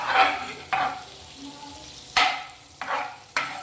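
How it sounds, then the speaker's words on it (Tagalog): Garlic and onion sautéing in melted butter, heard as several short bursts of sizzling and stirring, each sharp at the start and then fading, close and fairly loud. "Iulog na natin yung bawang sibuyas."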